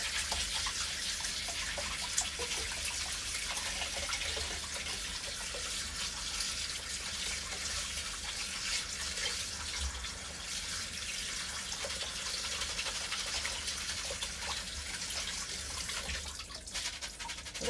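Cold water runs from a kitchen tap in a steady, unbroken stream, apparently for rinsing rice. The hiss is close and even, fills the whole stretch, and no one speaks over it.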